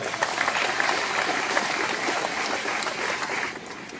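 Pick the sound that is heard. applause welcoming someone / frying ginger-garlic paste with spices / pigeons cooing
applause welcoming someone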